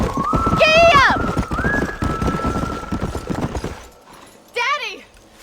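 A horse in the Red Dead Redemption video game gives two loud whinnies with clip-clop hoofbeats, over a steady tone and busy game sound, the second neigh coming after a quieter pause.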